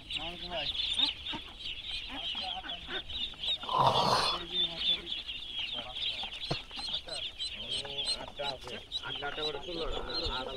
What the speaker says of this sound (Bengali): এই বিশাল আকৃতির হাঁসের খামার